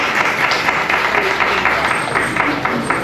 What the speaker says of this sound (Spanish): a la cual pido un fuerte aplauso.